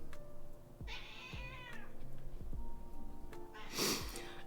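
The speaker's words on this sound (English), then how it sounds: "if she meows incessantly like this, I will pick her up" A cat meows over and over in a run of drawn-out, pleading cries, close and fairly loud, with soft snorts and sniffs between calls and no talking.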